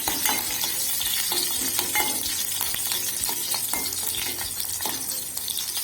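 Green chilies fry in hot oil before onions go in, a dense steady sizzle close up with frequent stirring scrapes and light utensil taps, no speech.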